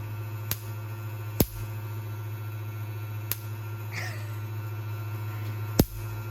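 A Van de Graaff generator discharges in sharp, sudden snapping cracks, four distinct sparks spaced irregularly over a steady low electrical hum. A faint brief sound sits in the middle.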